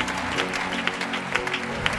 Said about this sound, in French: Quelqu'un acclame Jésus.